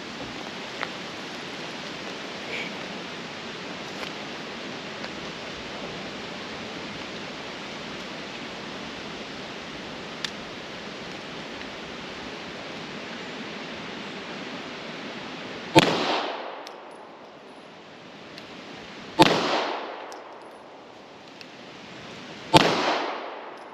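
Three loud, sharp gunshots from a 1944 Mauser-made Walther P38 9x19mm pistol firing 115 grain ball rounds outdoors, spaced several seconds apart over steady background noise, each with a short decaying echo.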